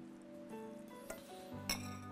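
A spoon stirs an onion, bacon and cream mixture in a bowl for a quiche Lorraine. The sound is very quiet, with a couple of light clinks against the bowl and faint squishing in between.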